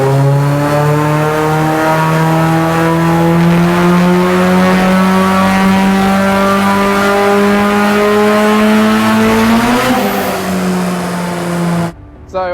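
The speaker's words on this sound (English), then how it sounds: "The F-Series engine just singing with that turbo on it" A turbocharged Honda Civic Type R EP3 with an F-series engine, drop-in cams and an ECU remap, screaming on a dyno: one loud, sustained pull climbing steadily in pitch before cutting off abruptly near the end.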